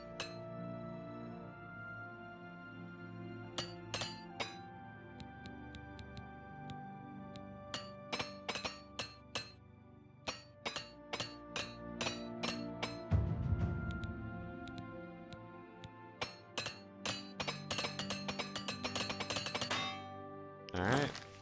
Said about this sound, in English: Let's use the repair hammer and repair our gear first